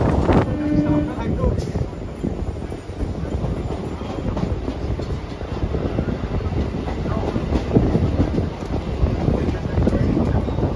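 A Sealdah-bound galloping local from Katwa rushes past at Lakshmipur station, a loud, steady roar of rolling wagons with faint clickety-clack and wind buffeting the microphone throughout.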